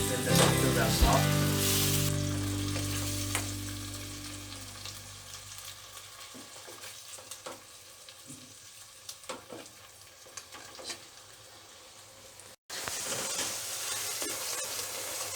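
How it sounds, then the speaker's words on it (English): Tomato puree cooking in a pan with onion, garlic and ginger, a steady close sizzle and bubbling, louder at first, fading, then surging back after a brief break, with no talking. "I'm going to add the tomato puree and let it cook till the tomatoes are soft."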